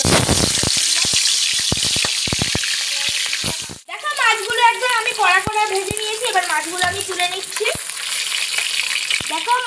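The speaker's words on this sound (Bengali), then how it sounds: "এবার যেই মাছগুলো আমার কাছে ছিল সেই মাছগুলো এবার আমি দিয়ে দিচ্ছি" Pieces of katla fish go into hot oil in a wok, and a loud, steady sizzle with bubbling crackle rises at once. Scattered clinks and a voice talking sit under the frying.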